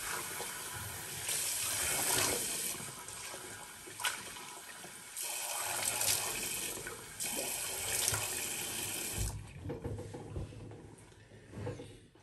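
Water runs from a tap and is splashed on the face before a wet shave, a faint, continuous gush broken by short pauses and softer splashes.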